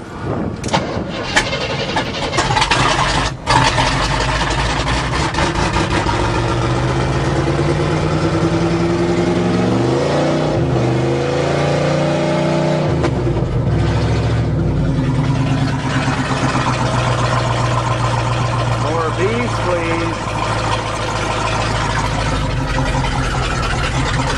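A GMC 400 truck engine cranks several times, catches after the fuel system is reprimed, surges with rising revs and settles into a loud, steady idle, close by with no talking.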